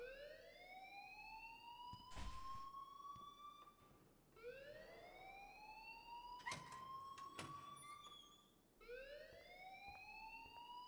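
In the video game Life is Strange, a school alarm wails in repeated rising sweeps, three long cycles played back quietly at low level, with a few brief clattering knocks between them.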